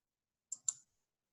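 Two quick faint clicks of a computer mouse in near silence, close together and soft.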